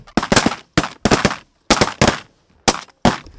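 Shotguns fire during a duck and crane hunt, about nine loud, sharp blasts in quick irregular bursts with brief silences between them.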